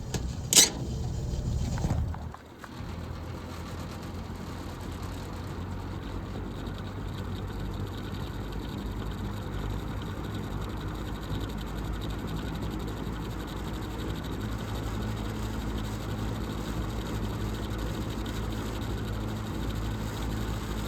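Vintage box fan, a Kmart K-223, Evenflow 2302 or Manning Bowman, running on medium speed at about 800 RPM, giving a steady low whooshing hum. A brief knock opens it, then a constant drone holds for the rest.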